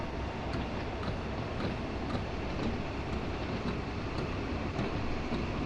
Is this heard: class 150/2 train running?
yes